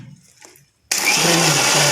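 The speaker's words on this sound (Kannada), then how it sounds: "ಚೆನ್ನಾಗಿ ಮಿಕ್ಸಿ ಹಾಕ್ಕೊಂಡು ರುಬ್ಕೋಬೇಕು." A mixer grinder starts up abruptly after a quiet moment and runs loud and steady, whirring as it grinds spices such as cloves, cardamom and dried fenugreek leaves with a little water.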